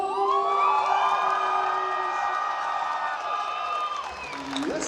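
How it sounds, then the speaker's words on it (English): Comic Con crowd in Cape Town shouting, screaming, cheering and applauding loudly all at once, a dense sustained roar of many voices with whoops and clapping that holds steady throughout. "I want you to shout, I want you to scream, I want you to applaud, and I want you to do it right now."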